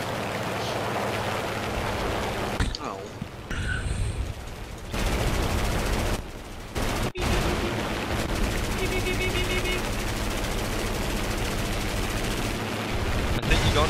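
Rapid gunfire from War Thunder combat rattles through a dense, noisy game mix, with bursts and heavy impacts sharply cutting in and out over about fourteen seconds while people talk over it.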